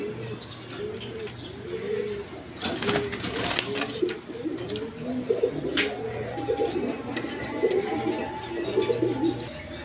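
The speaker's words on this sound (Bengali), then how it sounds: "একদম বিগ সাইজের কবুতর দেখেন" Big-sized domestic pigeons kept for sale coo over and over in overlapping rolling calls, close by, against a steady low background hum with occasional rustling.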